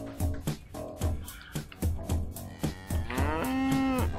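A cow moos loudly near the end, a long drawn-out low call, preceded by a series of rhythmic thumps and grunting strain sounds.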